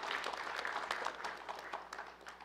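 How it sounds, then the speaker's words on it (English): Faint, distant applause from an assembled crowd at a township inauguration ceremony, a soft continuous patter that thins toward the end. "Let's also give another round of applause to the Woodbridge Community Choir and High School"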